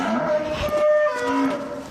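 Cattle moo inside a large barn, one drawn-out low call with a second animal joining, loud and close and echoing slightly, no one talking.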